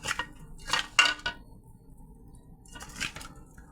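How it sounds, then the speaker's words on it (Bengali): Turmeric, chili, salt and oil rubbed onto pangas fish in a bowl for paturi, with a banana leaf nearby: short bursts of wet squishing and clinking against the bowl, separated by quiet gaps, close up and with no talking. "এখন মাছটা মেখে নেব।"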